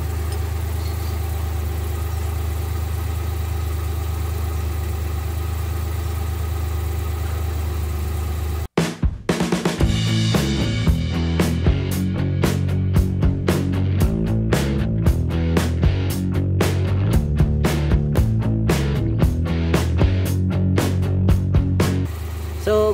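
A Suzuki Multicab F6A engine sits quiet for several seconds, then starts abruptly and settles into a loud, steady running idle with a rhythmic pulsing churn close by, for an alternator test.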